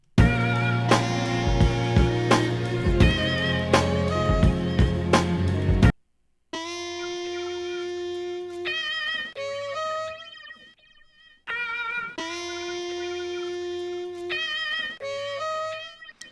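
Saxophone sample notes triggered in Kontakt, played in short phrases, first a dense loud passage, then cleaner sustained tones with brief pauses between.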